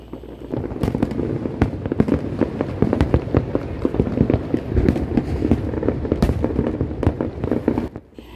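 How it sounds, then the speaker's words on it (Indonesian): Fireworks set off on a hillside crackle and pop continuously in rapid irregular bursts, with sharper bangs scattered throughout, heard from a moderate distance. "Jadi di bukit situ juga ada petasan"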